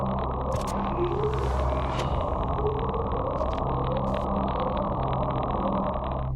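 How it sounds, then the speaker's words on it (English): Low, faint whooping tones rise in pitch again and again beneath a constant rumbling underwater noise. "The whoop whoop sound ascends at the end."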